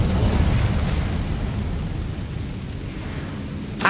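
Incendio fire spell in Hogwarts Legacy, a loud roaring whoosh of flame that starts strong and gradually tapers, ending with a brief sharp crackle.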